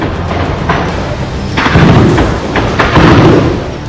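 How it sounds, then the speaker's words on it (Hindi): Several dull, heavy thuds and booms of explosions on the Thailand–Cambodia border land over a steady rumble, a few in quick succession, sounding distant but forceful. "कहीं धमाके हुए तो कहीं गोलियों की तड़तड़ाहट सुनाई दी।"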